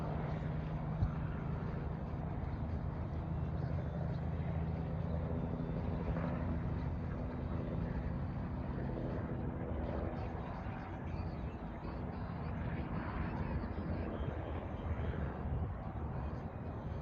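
A helicopter flying low over a riverbank during early morning fishing, its steady droning rotor noise hanging in the air as a constant, moderately distant rumble without talking.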